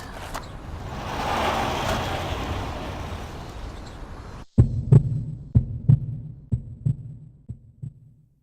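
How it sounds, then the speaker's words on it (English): In the Nanashi no Game horror video game, a rumbling ambient drone cuts out and gives way to a slow, deep, throbbing heartbeat, about a dozen thumps that fade gradually. "we arrive at Odaka's building with creepy heartbeat sound"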